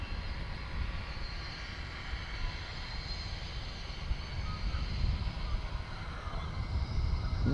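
A Durafly Excalibur RC model plane glides with the throttle off, giving a soft, steady airy rush and faint hum at moderate distance that swells slightly toward the end, with wind noise around it.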